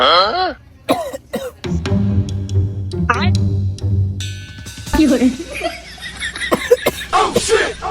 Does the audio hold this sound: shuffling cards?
no